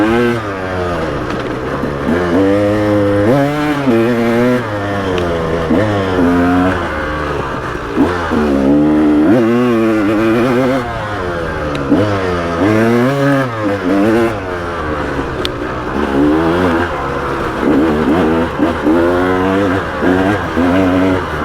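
A KTM 300XC dirt bike races cross country at speed, its engine loud and close, revving up and down in constant waves as the rider works through the gears.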